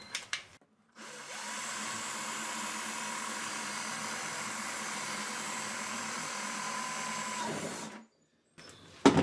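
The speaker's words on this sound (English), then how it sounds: "Get your half inch drill bit. We're going to drill a hole" A power drill fitted with a half-inch bit bores into a plastic five-gallon pail, giving one steady whirring run of about seven seconds that starts and stops abruptly.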